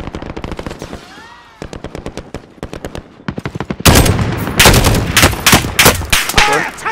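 Rapid bursts of automatic gunfire in Call of Duty Modern Warfare crackle in sharp, closely spaced volleys, sparse at first and then erupting into loud, dense continuous shooting.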